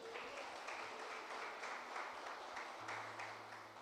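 A church congregation applauds during a worship service, a steady wash of clapping heard at a distance and fairly faint, holding evenly for a few seconds.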